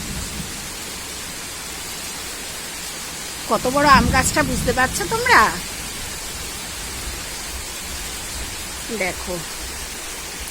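Steady rain falls across a home garden and rooftop garden with mango and chilli plants, a constant even hiss from start to end while a person talks briefly in the middle.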